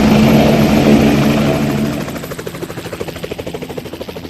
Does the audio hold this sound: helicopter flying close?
yes